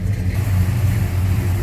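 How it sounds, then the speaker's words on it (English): A 1970 Chevrolet K10 4x4 truck with a 350 V8, headers and an Edelbrock intake idles steadily up close, a deep rumbling drone with no voices over it. "Listen to this. It's a good sounding truck."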